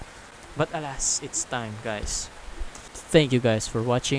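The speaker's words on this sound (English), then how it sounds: "it's raining outside, so I'm sorry about the background noise" Rain falls outside as a steady, faint hiss in the background, running under a person talking close to the microphone.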